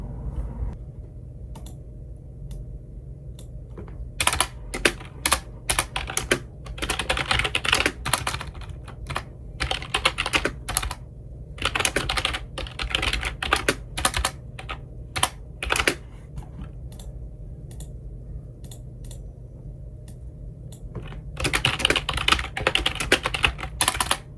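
Close-up typing on a computer keyboard while writing: bursts of quick, crisp key clicks come in uneven runs with short pauses, over a low steady hum, with no talk.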